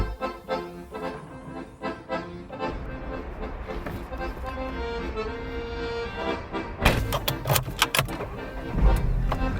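A car sets off on the road in Italy, a steady engine hum and road noise with a few thunks and clicks, then louder bumps toward the end.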